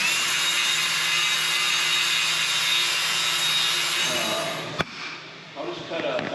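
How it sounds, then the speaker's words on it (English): A power tool cuts a wooden board with a loud, steady whine that holds for about four seconds and then winds down, followed by a sharp knock and some faint rattling in a workshop. "I'll just cut a board and U it a little bit."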